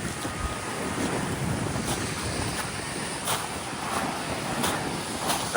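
Sea surf at a beach campsite near the tent pitching area, heard as a steady broadband wash of waves with wind buffeting the microphone, continuous and fairly loud with no talk.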